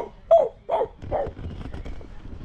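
A young child imitates a dog's barking, giving a few short, yappy 'woof' sounds close up in a home while being coaxed, followed by quieter murmuring.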